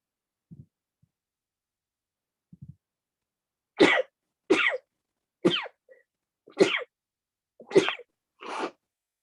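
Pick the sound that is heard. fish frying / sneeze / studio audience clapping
sneeze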